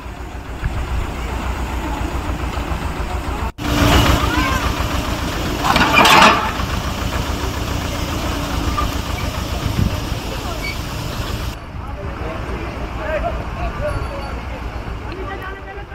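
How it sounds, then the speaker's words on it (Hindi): Tractors drive along a pedestrian footpath in the Kedar valley, Rudraprayag, their diesel engines rumbling steadily with revving surges, under a news narrator's voice. "अचानक ही इस पैदल रास्ते पर ट्रैक्टर चलने लगे"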